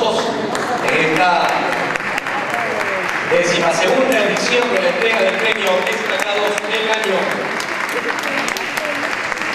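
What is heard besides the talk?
audience applause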